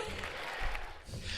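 An audience claps during Donald Trump's speech announcing executive actions as he returns to the presidency. The applause is a brief, dense patter of hands, moderately faint, with a voice faintly mixed in.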